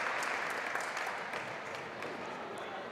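A crowd in Gregory Arena at a women's college basketball game between North Central College and Carroll University applauds an injured player leaving the floor, a steady broad wash of clapping throughout with faint commentary underneath.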